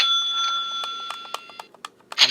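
Electronic beeps ring out from a button being pressed repeatedly, a run of short quick tones over a steady high hum, ending with a brief rustling burst.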